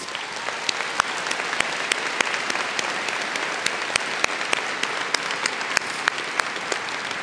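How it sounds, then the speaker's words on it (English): Sustained, hearty applause from a large commencement audience at American University, dense steady clapping with a few sharper claps standing out, continuing evenly throughout without speech. "hearty round of applause."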